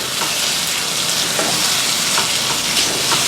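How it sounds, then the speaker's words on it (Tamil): Prawns stirred into a pan of Chettinad prawn thokku, giving a loud, steady sizzle of frying with soft scraping stir strokes recurring throughout. "இறாலை சேர்த்துட்டு இதை வந்து நம்ம நல்லா மிக்ஸ் பண்ணி விட்டுக்கலாம்."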